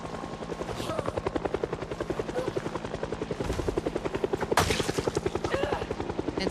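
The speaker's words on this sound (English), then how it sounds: "It's the heli that never ends." A helicopter flies overhead in a zombie survival video game. Its rotor chop is loud and rapid with steady rhythmic pulses, and a short burst of noise cuts in partway through.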